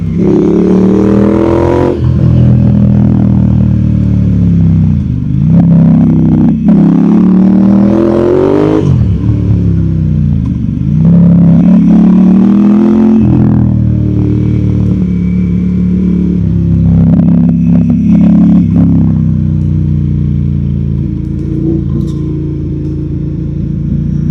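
A Ducati Diavel Diesel limited edition motorcycle engine revs up and down through gear changes, loud and close, with a deep throbbing exhaust and rising and falling pitch sweeps.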